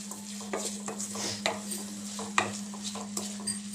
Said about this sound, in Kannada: ಈಗ ಬೇಯಿಸಿರೋ ಅವರೆಕಾಳನ್ನ ಹಾಕೋತಾ ಇದ್ದೀನಿ